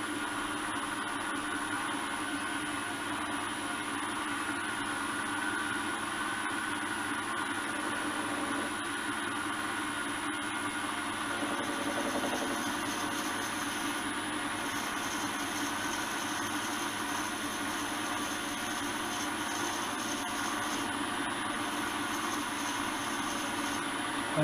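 A lathe turns steadily in a workshop while a valve guide is machined for a Trident motorcycle engine, giving a constant mid-level motor hum with a thin high whine and faint tool scraping.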